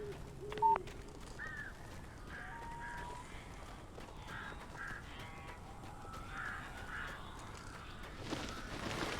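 Crows caw repeatedly in the Alan Wake video game, a series of harsh calls spread over a constant low ambient drone.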